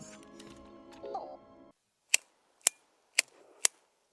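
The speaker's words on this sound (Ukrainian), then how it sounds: "Антистрес клік відомий фіджит ще до того, як це стало мейнстримом" A petrol lighter's lid clicking open and shut: four sharp, close metallic clicks at roughly half-second intervals, following a stretch of background sound and some voice, then heard alone.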